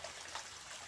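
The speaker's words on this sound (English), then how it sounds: "water gets pumped out of here, goes in there, it comes out here, and then it comes back to the fish pond." Water from an aquaponics grow bed trickles and flows back into a fish pond, a steady, fairly faint outdoor splashing with no voices.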